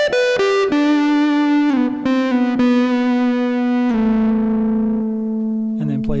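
An electric guitar plays a lead line through effects, with distorted sustained notes, a string bend sliding the pitch, and a few picked note changes, loud and close with no talking.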